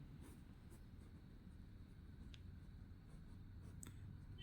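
Pen writing on paper during a maths lesson, faint close scratching and tapping strokes in short bursts over a quiet background hiss.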